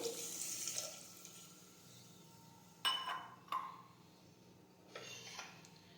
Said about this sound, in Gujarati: હવે આપણે થોડું પાણી ઉમેરીશું